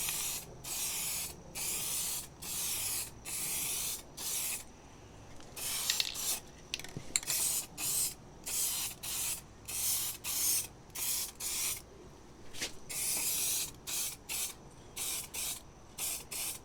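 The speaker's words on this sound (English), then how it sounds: "Now we're gonna put on 2 coats of clear" Spray gun laying a clear coat onto a car's bodywork, a steady pressurized hiss in repeated passes of about a second each, separated by short breaks, close and fairly loud with no talking.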